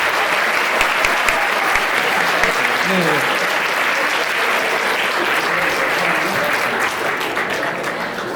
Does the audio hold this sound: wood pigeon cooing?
no